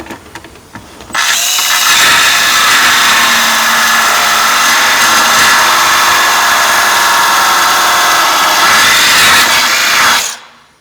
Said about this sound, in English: Let's see what this belt sander thing does.